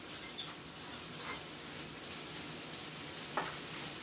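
Meatballs with already cooked onions and sautéed mushrooms sizzle steadily in a propped-up frying pan as they are stirred, with a soft broadband hiss and one brief scrape near the end.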